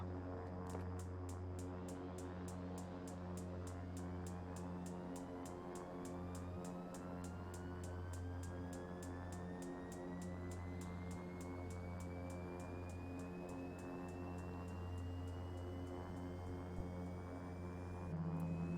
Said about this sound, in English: Now we're ready to start engine 2.